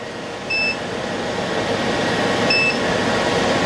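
Two short electronic beeps, about two seconds apart, ring out from a portable power station over a steady loud hum of its running fan.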